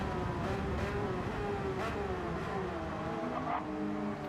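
Iron Dames Porsche race car in a racing video game at Fuji, engine held at a steady loud drone with slowly shifting pitch as it runs at speed, with other cars faintly around.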